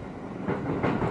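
An E217 series train on the JR Yokosuka Line rolls along the rails, heard from inside as a close, dense rumble with a rhythmic clickety-clack over the joints.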